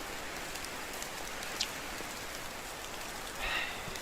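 Steady rain falling in the medieval survival game Medieval Dynasty, a constant soft hiss of drops with a couple of brief brighter splashes, fairly close and even throughout, with no talking.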